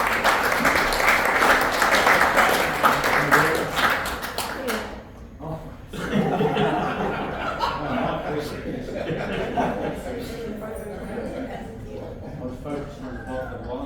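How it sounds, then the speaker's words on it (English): A crowd at a 90th birthday celebration claps loudly for several seconds, breaks off, then chuckles and murmurs as people talk over scattered laughter. "Give him a clap."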